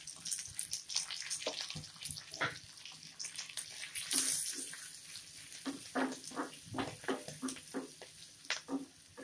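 Asafoetida drops into hot oil as the tempering for Gujarati kadhi, giving an uneven close crackling sizzle with sputtering bursts that swell midway, with no voices.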